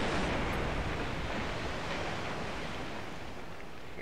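Steady broadband underwater hiss and bubbling rush from a submarine in the naval war game WiTP AE, continuous and fairly loud for the whole stretch with no voices.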